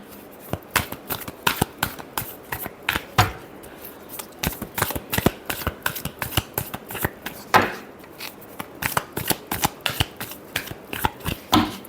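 A tarot deck is shuffled by hand in a long, busy run of sharp card flicks and slaps, close and fairly loud. The uneven rhythm holds steady throughout with no voices.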